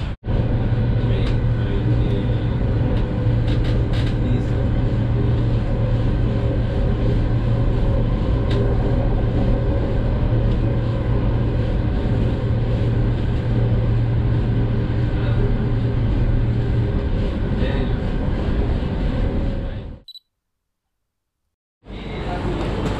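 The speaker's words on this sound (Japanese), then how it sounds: "デリー、ニューデリー駅から、地下鉄でやってきました。" Delhi Metro subway train running toward the airport from New Delhi station, a loud continuous rumble and whine of the car in motion with faint voices, ending in a sudden short silence before the noise returns.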